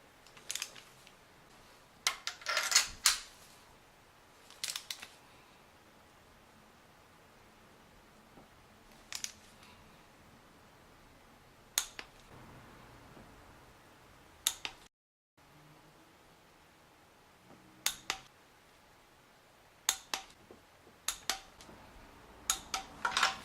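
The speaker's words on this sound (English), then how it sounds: "Then I like to torque spark plugs. I'm just going to go to 30 Newton meters." A torque wrench tightens spark plugs on a BMW M52 engine to 30 newton meters, giving clusters of sharp ratcheting clicks separated by quiet pauses and finished with a few crisp clicks near the end.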